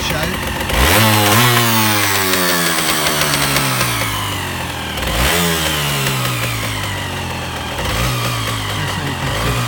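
A small engine runs without its choke while it warms up. The close, buzzy idle surges up and drops back several times, pitch sliding down after each rev, and it sounds rough throughout.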